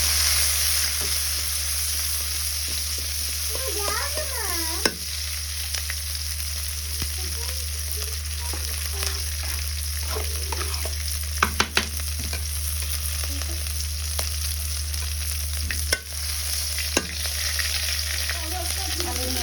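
Whole five-spice seeds fry in hot oil as a fish curry is started, with a steady close sizzle throughout over a low hum, a few utensil clinks and a brief faint voice.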